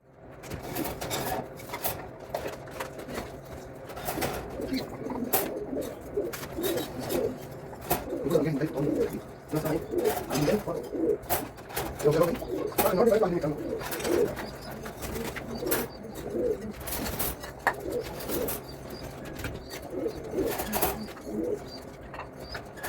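Pigeons coo softly inside a loft amid scattered knocks, shuffling and clatter of handling, with the soft calls rising and falling throughout.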